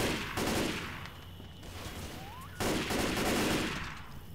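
Gunfire in the zombie shooter Left 4 Dead 2 on Xbox One, bursts of rapid shots in two separated volleys with a quieter stretch between them, moderately loud with no talking.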